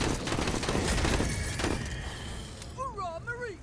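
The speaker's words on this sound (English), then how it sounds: "We're gonna deploy, and we're gonna start blasting with our shotguns." Shotgun blasts from the video game It's Menacing Time fire in a dense, loud volley over steady talk, then fade away.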